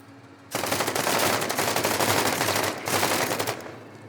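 Rapid automatic gunfire in the tactical video game Menace, a loud dense burst lasting about two seconds, a brief pause, then a second shorter burst, with no talk over it.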